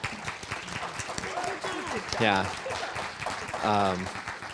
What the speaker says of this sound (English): can we get a big round of applause for the panelists?